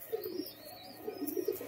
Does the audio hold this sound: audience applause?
no